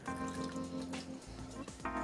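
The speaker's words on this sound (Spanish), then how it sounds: "Un chorretón de un buen chacolí de Guetaria" A splash of Getaria txakoli wine is poured over a lamb shoulder in a roasting tray, making a continuous close liquid gurgle and splatter that fills the whole stretch, with no talking.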